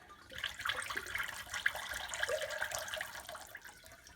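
Sieved ceramic underglaze poured from a container, a steady soft liquid splashing and trickling for several seconds at moderate, close range, with no voices.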